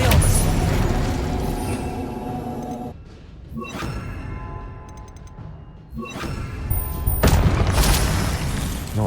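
Spell blasts in Hogwarts Legacy, with loud booming bursts and whooshes in separate waves, the gaps between them quieter, and a voice calling out incantations.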